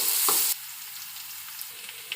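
Chopped onion and three green chilies drop into a hot pan of popped mustard seeds, a loud burst of sizzling that settles into a steady, quieter frying hiss with faint stirring.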